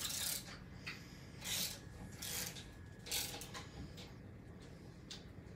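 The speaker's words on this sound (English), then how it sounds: "so I use a regular ratchet." Regular hand ratchet loosening a bolt while installing a Handi Hammock on a HandiQuilter machine, heard as several short raspy clicking bursts spaced about a second apart at close range, with no talking.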